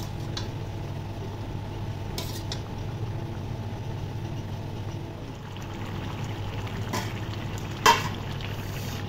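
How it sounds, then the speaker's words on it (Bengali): A pot of rohu fish curry with ridge gourd and potato simmering, giving a low steady bubbling hum with a couple of faint clicks and a brief louder clatter near the end. "এই দেখুন তরকারির ঝোল ভালোভাবে ফুটে গেছে"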